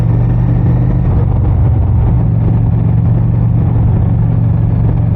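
A Honda Phantom motorcycle ridden fast at night gives a loud, steady engine drone with heavy low rumble and wind roar, holding pitch with a slight shift early on.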